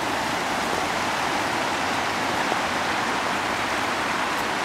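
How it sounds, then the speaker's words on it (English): Steady broadband rush of river water flowing along the Ouray Riverwalk, a continuous close wash of noise with no breaks and no voices. "Sound of the water is nice."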